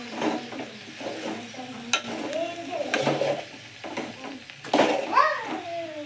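Chili powder being stirred into curry frying in a pan, with a sizzle, scraping and clinks of a spoon, and voices talking throughout over the cooking sounds.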